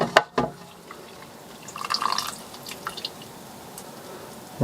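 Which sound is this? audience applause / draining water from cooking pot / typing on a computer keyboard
draining water from cooking pot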